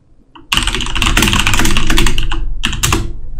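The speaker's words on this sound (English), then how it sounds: "What would I type in to find that?" Fast, loud clatter of typing on a computer keyboard, a dense burst of key presses starting after a short quiet gap, pausing briefly, then resuming, close up with no voices.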